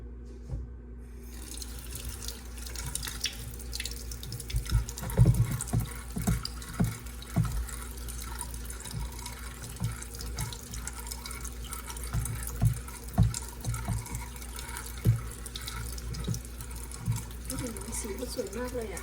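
Tap water runs continuously into a kitchen sink while cured salmon is rinsed, a steady close rush with small splashes and clatters throughout, and someone speaks over it.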